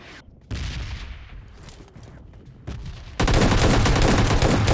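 Loud, dense automatic gunfire from the PUBG Mobile Lite battle royale game, scattered shots at first, then a sustained fusillade of overlapping bursts filling the last second and a half.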